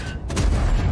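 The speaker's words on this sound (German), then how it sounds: "Schön oben durch die Kanone." A tank cannon fires in World of Tanks, aimed at a British Tortoise heavy tank destroyer: one deep, close boom that rolls into a sustained low rumble across the whole second.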